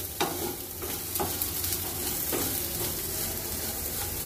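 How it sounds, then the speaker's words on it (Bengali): Jute leaves being stir-fried with sugar in a pan, a steady soft sizzle with periodic scraping strokes of a spatula, close and continuous with no talking. "চিনির সঙ্গে শাকটা ভালো করে মিশিয়ে নিচ্ছি।"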